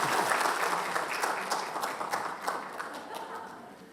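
Church congregation applauding a Sunday service's youngest member, a baby, with steady dense clapping from the whole room that fades gradually toward the end.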